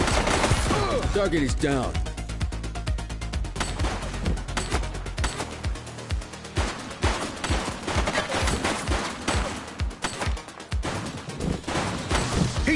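Rapid bursts of gunfire from a video game police shootout, with dense volleys and sharp repeated shots running throughout, loud and close, mixed under a voice speaking.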